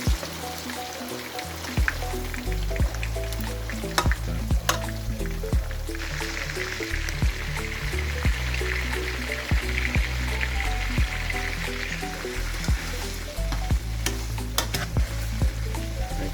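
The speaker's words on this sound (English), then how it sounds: "we'll just deep fry there for 2 minutes" Sliced beef for tapa deep-frying in hot oil, a steady close sizzle and crackle with scattered pops and light clinks, continuing evenly with no talking.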